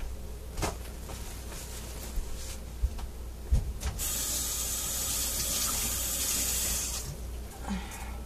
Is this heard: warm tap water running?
yes